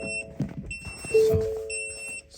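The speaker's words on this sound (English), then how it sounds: "Oh, it's alarm." A Ford Ranger's electronic warning alarm for no coolant beeps in repeated high tones, with a sustained tone in the middle, over muffled clatter and rustling nearby.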